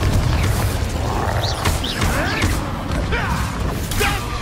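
Combat in the Hogwarts Legacy video game, with a Confringo explosion spell cast amid other spells. Loud, dense booms, crashes and whooshing magical effects sound continuously over a heavy low rumble.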